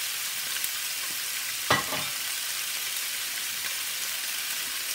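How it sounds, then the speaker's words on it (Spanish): Small pieces of fish fry in oil with a constant fine hiss and crackle, loud and close, broken once by a brief clatter of stirring. "Vamos a distribuirlo así muy bien el pescado para que todos los pedacitos se sofrían un poquito en el aceite."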